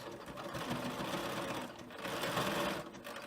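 A sewing machine zigzag stitching across the casing of a frame bag, whirring steadily and close by with a fast, even rattle and slight surges in pace.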